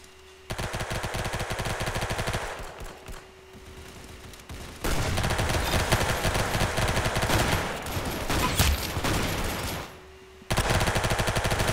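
Rapid automatic gunfire in the Roblox game Arsenal: long sustained bursts of dense, loud shots, broken by a couple of brief pauses and quieter stretches, with no voices over them.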